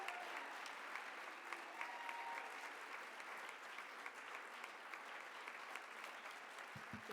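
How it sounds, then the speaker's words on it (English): An audience applauds honorees at a business awards event, a sustained, even roar of many hands clapping in a large room that continues throughout, fairly distant and steady. "can we all just give them a very big round of applause?"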